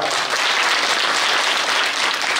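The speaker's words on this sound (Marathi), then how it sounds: "यांच्यासाठी एका टाळी वाजवा" An audience at a devotional music gathering claps steadily, producing dense, continuous applause that holds loud and even from start to finish with no voices above it.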